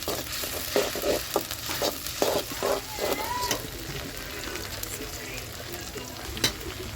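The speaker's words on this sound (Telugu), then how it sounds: "ఉల్లిగడ్డలు అయితే వేగినాయి కదా టమాటో పేస్ట్ అయితే వేసేసుకున్నాం" Onions frying with ginger and tomato paste for a chicken gravy curry, stirred in a pan: a soft steady sizzle with bursts of quick scraping, clattering stirs at first, then a quieter simmer.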